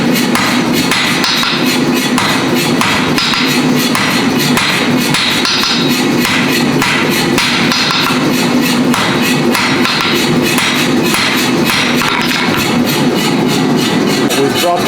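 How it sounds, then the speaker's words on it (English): A 4-pound hammer forges a railroad spike on the far side of an anvil, a rapid run of sharp metallic strikes repeating steadily and loudly over a constant mechanical drone, likely a power hammer running. "using a 4-pound hammer on the far side of my anvil"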